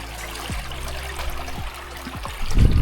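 A stream of water running near a waterfall at La Caleta beach in Bataan, a steady close trickle and gurgle that swells louder near the end, with no talk.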